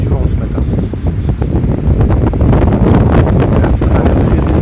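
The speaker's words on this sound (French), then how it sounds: "il y a du vent ce matin." Strong morning wind on a beach on Koh Phi Phi buffets the microphone with loud, continuous rumbling gusts that never let up.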